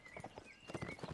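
Horse hooves from the video game Mount & Blade clop past in a quick irregular patter of soft thuds, faint and somewhat distant, with a thin tonal whistle drifting faintly behind them.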